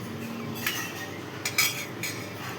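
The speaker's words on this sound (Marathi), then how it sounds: "हे बघा, चमच्यानं असं मस्त मी काढून घेतलं." A metal spoon scoops gel from an aloe vera leaf, making a few faint scrapes and soft clinks over a quiet background.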